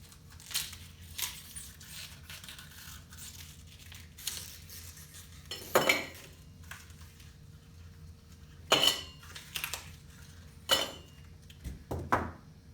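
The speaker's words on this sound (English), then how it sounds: "First, we're gonna start with some ice." Small fancy ice cubes clink and rattle into a glass in several sharp, separate bursts spread across the stretch, close and fairly quiet, with faint handling noise between drops.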